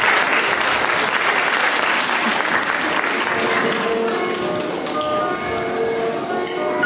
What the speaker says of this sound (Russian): Давайте аплодисментами откроем второй номер.